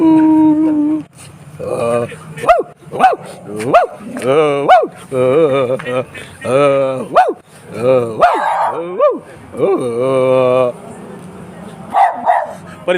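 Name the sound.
dogs barking and howling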